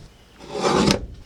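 Scissors cutting through taped notebook paper pieces, a short rasping cut that swells and stops within about a second, close and alone.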